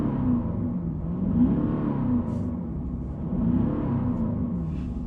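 An Audi SQ7 V8 in comfort mode with its sound generator switched off gives a muted, deep rumble that swells and eases as the revs rise and fall, heard close with no talk.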